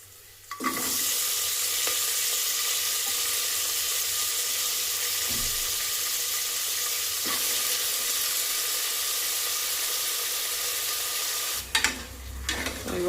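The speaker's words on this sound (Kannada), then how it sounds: "ಇವಾಗ ಇದನ್ನು ಫ್ರೈ ಮಾಡ್ಕೊತಾ ಇದ್ದೀನಿ" Eggplant, potato and chickpeas fry in a pan with a steady, loud broadband sizzle that holds evenly for over ten seconds before a brief clatter near the end.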